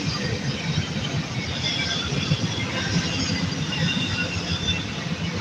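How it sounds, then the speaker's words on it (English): A freight train rolls past as a loud, continuous low rumble and rattle with faint high wheel squeal, filling the whole stretch without break. "give me a minute to let this freight train pass by"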